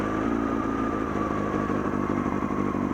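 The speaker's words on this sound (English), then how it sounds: "I just turn the key, pull the choke, and it starts right up." A 1996 Honda CBR600F3 motorcycle engine running right after a cold start on choke, with a steady, close, loud idle and an even mechanical clatter throughout.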